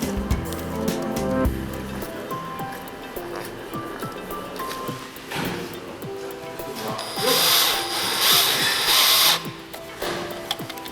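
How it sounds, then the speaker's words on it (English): A power drill drives screws to fix a roller shutter belt winder in place, with intermittent whirring bursts that grow louder and more sustained near the end, heard close up without speech. "Fix the belt winder with screws at the desired height."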